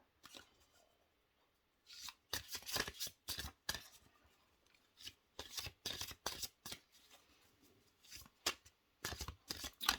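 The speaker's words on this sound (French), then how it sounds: "je vais vous tirer des cartes de l'oracle S'autoriser à être soi" Oracle cards are shuffled and drawn by hand, a run of crisp riffling bursts and flicks in quick irregular clusters, close and clear with no talking.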